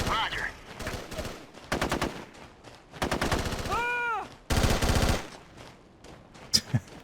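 Gunfire rattles in a military shooter video game: several separate bursts of rapid automatic fire, loud and close, with short pauses between volleys and a rising whistling tone partway through.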